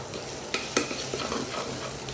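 Mustard seeds and onions frying in hot oil with curry leaves for a mango sweet curry, a close, steady sizzle broken by a couple of sharp pops and a light stir.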